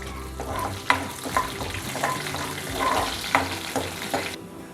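Mustard seeds, cumin, urad dal and chana dal sizzle steadily in hot oil for gongura dal, with close, intermittent clinks and scrapes of a spoon stirring the pan.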